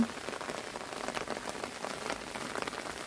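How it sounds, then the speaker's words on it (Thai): Steady rain patters on a surface nearby, a soft, even hiss of drops with no voices. "ตอนฝนตกค่ะ"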